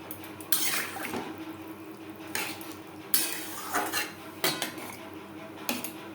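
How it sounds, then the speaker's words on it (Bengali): Clinks and clatters of a metal bowl being rinsed, with water poured into a pan of sautéed potato and pointed gourd curry; several sharp knocks stand out over a light wet background. "আমি এখানে ডাল বাটার বাটিয়ে ধুয়ে জল অ্যাড করছি।"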